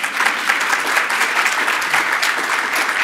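An audience at a journalism panel about covering the White House breaks into steady, sustained applause, with dense clapping from a large crowd and no talk over it.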